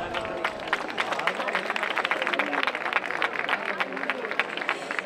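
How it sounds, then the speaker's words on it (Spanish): Audience applause and cheering for a chirigota group at the Tarifa carnival group presentation in 2023: dense, steady clapping from a crowd, fairly loud and continuous, with voices mixed into the noise. "¡Un aplauso para ellos!"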